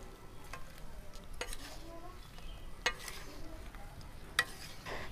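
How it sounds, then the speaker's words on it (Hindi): Jackfruit pieces are stirred into oil for pickle, a faint, low rustle of mixing with a few sharp clicks of a spoon against the vessel, quiet and brief. "सारे से पहले हम तेल में अच्छे से कटहल को मिला देते हैं, अच्छे से तेल में भिगो देते हैं"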